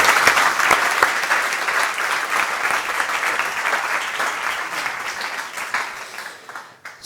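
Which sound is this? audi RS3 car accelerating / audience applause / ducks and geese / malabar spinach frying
audience applause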